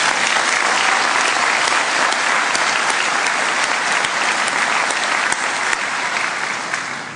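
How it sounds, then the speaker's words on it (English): Sustained applause from a graduation ceremony audience, a dense, steady patter of many hands clapping at full strength throughout, tapering slightly at the very end. "And we might just give him a round of applause."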